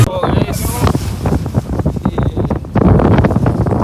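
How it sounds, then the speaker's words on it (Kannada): Strong seaside wind roars and buffets the microphone in uneven gusts, with a voice faintly audible underneath. "ಗಾಳಿ ಈಗ ಪೂರಾ ಭಾಳ ರಭಸವಾಗಿ ಹೊಂಟದ."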